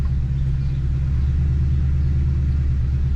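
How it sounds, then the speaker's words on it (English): A 1972 Ford F-100 Sport Custom pickup idles on a cold morning just after starting, a steady low rumble with a throbbing, even pulse, close and continuous with no voices. "It's firing up and idling smooth."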